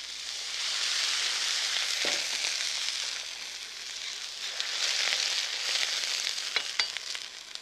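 Hot boiling stock and canned mushroom slices hit a hot wok for a shrimp soup, giving a loud, continuous sizzle and hiss with a few faint clinks, close up and without talk.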